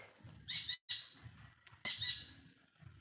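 Shrill, noisy calls from a blue bird in short bursts, loud and near, with a brief gap of silence between calls and a low rumble underneath.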